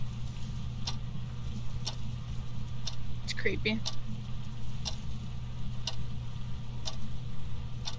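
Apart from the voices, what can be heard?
clock ticking in the video game Phasmophobia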